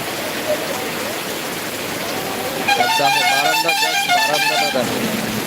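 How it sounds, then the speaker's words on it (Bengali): Heavy evening rain in Dakshin Dinajpur pours down outside a shop in a steady, loud hiss. A vehicle horn honks repeatedly through the middle of it. "বাইরে প্রচণ্ড বৃষ্টি হচ্ছে দেখো"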